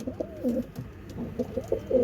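A baby pigeon, a pet being treated for pigeon pox, coos in low, throaty repeated phrases close by, with soft rolling notes running steadily through the moment.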